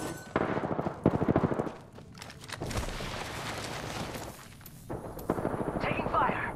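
Rapid automatic gunfire in the video game Apex Legends rattles in several sustained bursts, loud and close, with a brief lull in between, and a voice talks over part of it.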